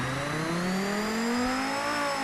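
A car engine in the Automation game revs alone, its pitch climbing steadily through rising harmonics with a loud, sustained, close-up drone and no talk.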